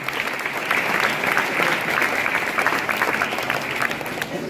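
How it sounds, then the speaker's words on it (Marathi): A crowd gives steady, sustained applause at an awards ceremony for an industrial training institute's sports teams, clapping for the runner-up tug-of-war team; dense hand claps continue evenly for several seconds with a murmur of voices underneath. "त्यांच्यासाठी सुद्धा जोरदार टाळ्या होतो"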